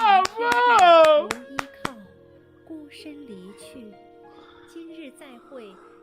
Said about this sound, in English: They've never had me clap in this game.